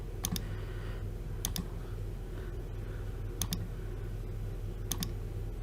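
Computer keyboard keys are pressed in quick bursts of two or three clicks, spaced a second or two apart, while exporting an image in CorelDRAW, over a steady low hum of room noise.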